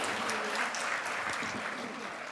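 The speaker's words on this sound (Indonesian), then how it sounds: "Wah, tepuk tangan semuanya." An audience at an Indonesian public event applauds with a fairly faint, steady crowd clapping that lasts briefly, with a voice faintly audible underneath.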